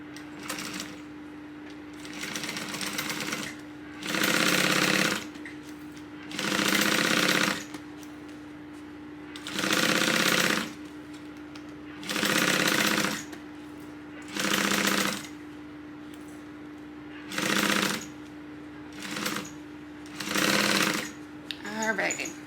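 A sewing machine stitches the lining of a tote bag at a 3/8-inch seam, running in about ten even bursts of steady whirring with short pauses between them, loud and close.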